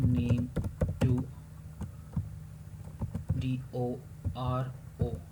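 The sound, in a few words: typing on a computer keyboard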